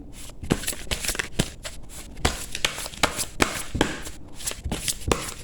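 A deck of cards is shuffled repeatedly at close range, giving a rapid series of crisp riffling bursts and soft taps in an uneven rhythm, with no talking.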